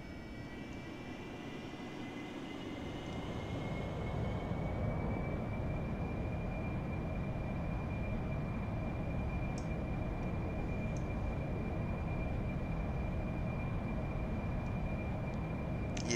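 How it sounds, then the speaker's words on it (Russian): A Harrier jet in the flight simulator DCS World takes off, its engine a loud, steady roar with a rising whine, continuous throughout. "Вот он, Харриер. Даже с таких вот коротких полос может взлетать."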